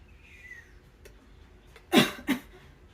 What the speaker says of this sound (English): Sorry for the coughing, I have allergies.